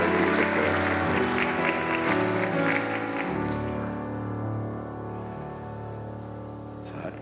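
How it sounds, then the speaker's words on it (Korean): Wedding guests in a church applauding the newlyweds, a lively burst of clapping over sustained instrumental music that thins out after a few seconds while the music carries on. "박수 해주세요."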